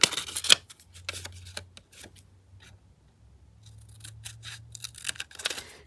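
Scissors cut paper for a handmade file-folder journal cover, close up, with irregular crisp snips in short bursts separated by quiet pauses.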